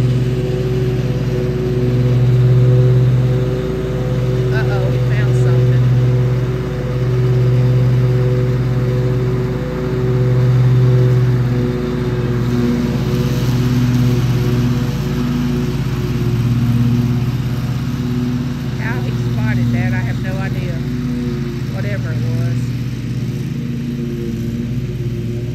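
A riding lawn mower cuts grass on a home lot in a steady, loud, mid-pitched engine drone that holds for the whole stretch, swelling and easing slightly as it turns, with no voices.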